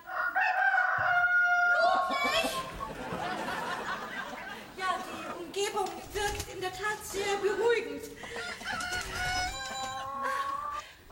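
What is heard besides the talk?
rooster and chickens clucking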